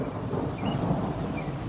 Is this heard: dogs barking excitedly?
no